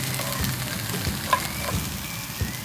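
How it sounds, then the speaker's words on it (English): Shallots browning in a pan for egg fried rice give a steady, even sizzle close by, with a few light clinks of a utensil against the pan and no talking. "Just want to make sure you brown the shallots a little bit"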